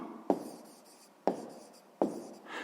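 Writing by hand during a sixth-grade math lesson, three crisp taps of pen or chalk spaced about a second apart, each trailing into faint scratching strokes, close and quiet.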